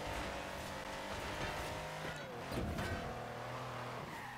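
Hypercar engine in the Forza racing game, revving loudly and continuously with shifting pitch and brief tire squeals, a steady near roar with no talk.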